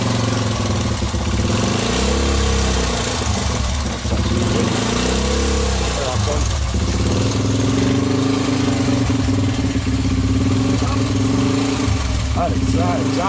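A restored Honda XL 100 motorcycle engine runs loud and close, its note rising and falling as the throttle is worked in repeated revs over a steady idle, with someone talking over it.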